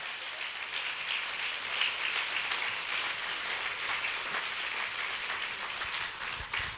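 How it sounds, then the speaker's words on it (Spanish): Sustained applause from a church congregation, a dense, steady wash of clapping that holds at an even level throughout with no talk over it. "Denle un aplauso a papá en esta hora."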